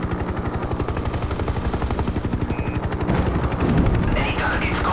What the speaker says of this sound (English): Enemy ground fire.